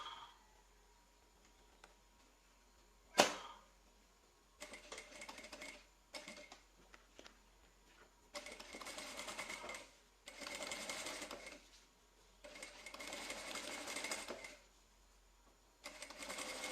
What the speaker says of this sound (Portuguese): eu coloco frente com frente e passo uma costura de um pé de máquina